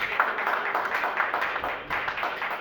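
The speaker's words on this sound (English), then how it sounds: "A round of applause, please." Steady applause from an audience at a foundation launch event, a dense wash of clapping that continues throughout with a brief dip near the end.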